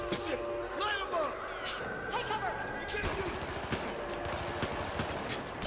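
Gunfire from shooting enemies in Battlefield 4, with rapid bursts and shots layered over busy game noise while a voice talks over the action.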